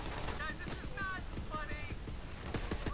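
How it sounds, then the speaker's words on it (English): Rapid gunfire rattles in the Borderlands 3 video game while shooting a clone, with dense bursts of shots and high whining effects, mixed with game sound under a busy, loud soundscape. "just shoot the clone"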